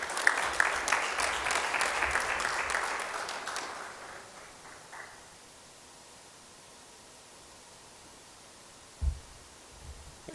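Audience applause at a corporate event, a moderate crowd clapping for about four seconds before tapering into quiet room tone, with a faint thump near the end.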